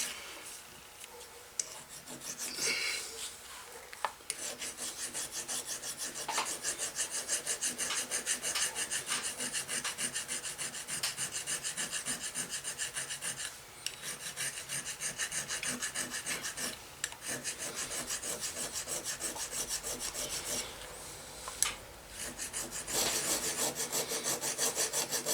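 Vintage cobbler hammer face being filed flat, with rhythmic rasping strokes repeating steadily and close, broken by a few brief pauses between passes.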